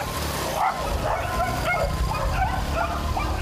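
Several dogs bark on a street where postal carriers work door to door, excited yips and woofs mixed with traffic and general outdoor noise, fairly loud and continuous.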